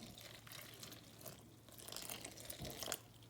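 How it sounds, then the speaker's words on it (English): Water poured into a plantain fufu mixture in a kitchen, a soft splashing trickle that is faint and fairly close, with no talking over it. "So I just put a little water."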